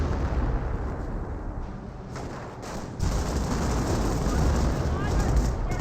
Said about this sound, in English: Speaking of Hummel barrages, we've got Hummel barrage over here.